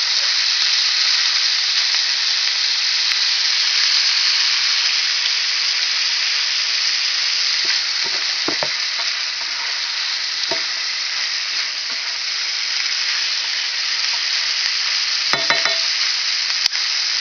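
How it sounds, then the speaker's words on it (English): Onions sauté steadily in a pan for a Hungarian cabbage and noodles dish, a loud even sizzle throughout with a few faint clinks of a utensil near the end, no voices. "We don't want to cook it all the way, we just want to saute the onions, probably for a couple minutes."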